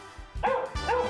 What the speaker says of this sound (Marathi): कुत्र कसलं टायमिंग वर भुंकले रे.